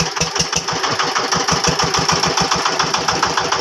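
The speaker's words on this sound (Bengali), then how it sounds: "ছোট ছোট ট্রলার" Small trawler boat engine on a river in the Sundarbans, running with a steady, rapid low chugging pulse, loud and close throughout with no talk.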